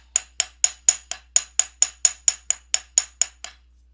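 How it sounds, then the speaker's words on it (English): A planishing hammer flattening the middle of a metal piece, about fifteen sharp ringing strikes in a steady rhythm, loud and close, with no talking. "I'm going to use this plenishing hammer because it's easy for me."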